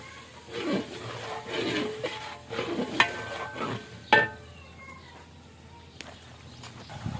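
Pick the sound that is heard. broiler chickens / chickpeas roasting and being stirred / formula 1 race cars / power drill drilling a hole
chickpeas roasting and being stirred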